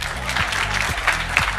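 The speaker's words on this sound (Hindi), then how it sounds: "ताली बजानी चाहिए।" Audience applause at a live student debate in India, with steady dense clapping filling the space and a few louder claps standing out, plus a low tonal hum running underneath.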